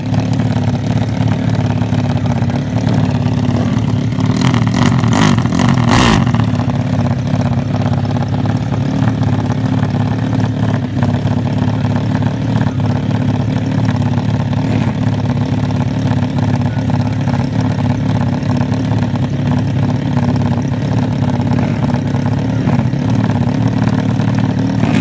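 Small-tired motorcycles ride past with a loud, continuous engine drone and some revving, plus a brief burst of clattering early on.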